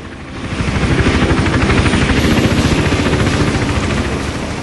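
A video game helicopter in Hitman: Absolution: its rotor chops steadily and loudly with a deep, rapid thumping pulse under a broad engine roar, holding close and constant throughout.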